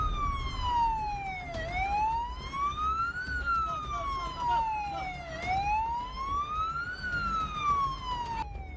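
A fire engine siren wails in slow rising and falling sweeps, repeating about every three and a half seconds, moderately distant over faint road rumble.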